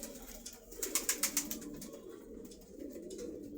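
Pigeons for sale at a bird market in Meradia, Rampura, Dhaka, give a short run of soft rhythmic coos over a steady low market hubbub, close by and moderately loud.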